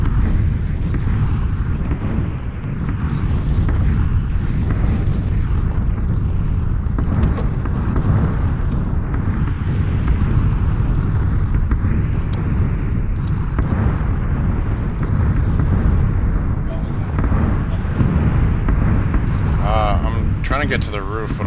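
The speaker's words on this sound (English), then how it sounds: "I'm waiting for this bomb to end" Bomb blasts in a video game rumble and boom continuously at close range, a dense, loud roar of repeated explosions lasting throughout, with people talking over it.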